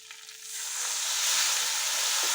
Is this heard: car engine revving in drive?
no